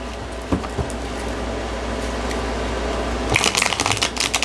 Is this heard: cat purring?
no